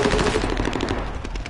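Rapid automatic gunfire rattles in a battle royale shooter video game, a dense burst of repeated shots at close range, loud and continuous for the whole moment without speech.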